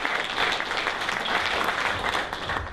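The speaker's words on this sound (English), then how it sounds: "A big round of applause for my two volunteers," An audience at a comedy magic show applauds volunteers, with a short burst of steady, dense clapping from a crowd in a room.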